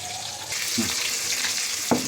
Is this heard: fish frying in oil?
yes